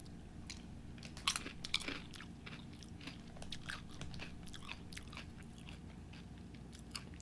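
Homemade Doritos Locos with chips, corn, cheese and hot sauce are bitten and chewed up close, giving crisp crunches followed by quieter, irregular chewing.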